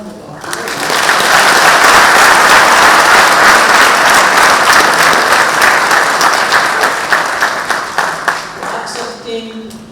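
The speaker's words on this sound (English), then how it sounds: "ask all of us to give him a loud round of applause." A large audience at a ceremony welcoming Kenya's President Uhuru Kenyatta to Uganda at Makerere University breaks into loud, sustained applause. The dense clapping swells within the first second, holds steady, then thins toward the end with a few scattered claps.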